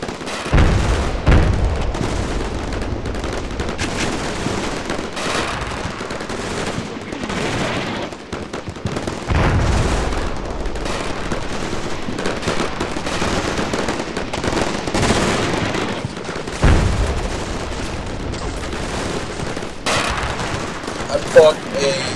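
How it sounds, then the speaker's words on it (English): Artillery and cannon fire in the Combat Mission Shock Force war game, with repeated heavy booms and bursts of gunfire rolling over a continuous battle din, some blasts louder and nearer than others. "I'm gonna try to interdict them with artillery fire and also with direct fire from the overwatch cannons."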